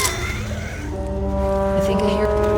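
Boomer special infected in the video game Left 4 Dead 2, a low droning groan that swells midway and holds steady tonal layers for about two seconds, close and fairly loud over game noise and a voice.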